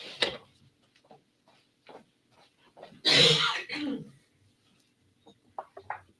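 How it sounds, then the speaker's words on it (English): A harsh cough and throat clearing, loudest in the middle, among scattered smaller clicks and rustles in an otherwise quiet room. "I have to go cough"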